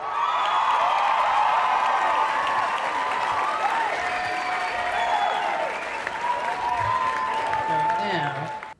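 A canned crowd applause effect plays on a live stream, steady dense clapping with some cheering that holds loud throughout, while a voice talks over it.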